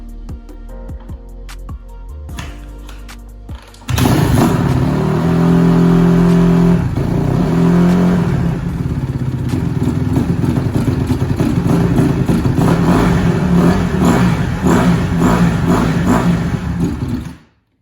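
A 2020 Honda CRF150RB dirt bike with a freshly cleaned carburetor clatters briefly, then its engine catches and runs loud and steady at close range for over ten seconds before abruptly dying out.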